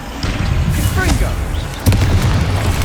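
A Confringo blasting spell goes off in Hogwarts Legacy, a sharp booming burst followed by a rumbling tail, with the spell name shouted over it.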